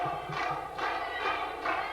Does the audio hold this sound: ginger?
no